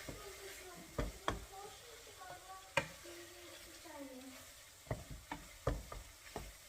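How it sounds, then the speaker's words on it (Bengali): Spice paste sautéing in a pan for hilsa fish head curry, with a low steady sizzle broken by sharp scraping knocks of a spoon against the pan and faint intermittent talk in the background. "এখন ভালোভাবে কষিয়ে নিতে হবে যাতে মশলার কোনো গন্ধ এক্সট্রা গন্ধ না থাকে"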